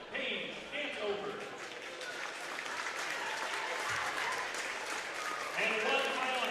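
A crowd at a high school boys wrestling meet applauds with sustained, dense clapping, loud and steady, while an announcer's voice speaks over it.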